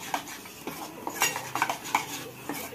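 A spoon clinks and scrapes against a bowl while mung bean dosa batter is mixed with salt and chopped coriander, giving irregular close taps and soft wet stirring sounds.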